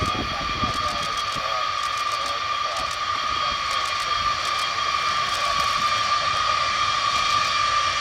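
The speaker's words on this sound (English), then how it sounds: "The B52 told to extend towards the end of the runway before turning and backtracking following the follow me vehicle" Boeing B-52 bomber rolling down the runway after landing at an airshow, a steady loud engine roar and whine with a high tone holding throughout, continuous and close, with faint voices underneath.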